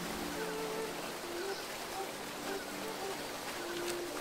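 A steady rushing waterfall fills the scene in the Monkey Island 2 video game, a constant hiss of falling water with faint musical tones drifting through it.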